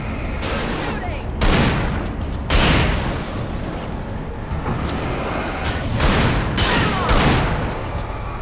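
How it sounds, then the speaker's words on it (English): Gunfire in the video game Alan Wake comes as repeated loud shots and booming bursts through a tense scene, with a voice talking over parts of it. "Shooting!"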